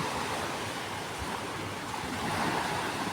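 Steady roar of surf with wind rushing over it at Boracay in the windy southwest monsoon season, a continuous broad wash of waves that swells slightly toward the end.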